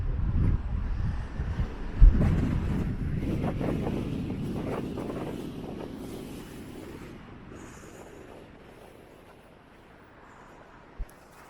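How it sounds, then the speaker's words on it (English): Strong wind blows at the Blackpool North Shore seafront at high tide, buffeting the microphone in heavy gusts with sea noise beneath, strongest early on and gradually easing to a softer rush. "it's very windy here in Blackpool, very windy"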